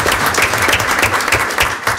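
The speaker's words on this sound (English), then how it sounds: "They both deserve a round of applause." Loud close applause at a school committee meeting, dense clapping with individual claps standing out in a fairly regular rhythm.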